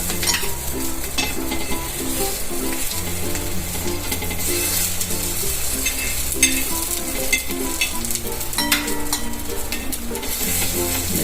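Potato patties for ketless chaat shallow-frying in a little oil, giving a loud, steady sizzle up close, with stirring and scraping sounds and occasional light clinks of utensils on the pan.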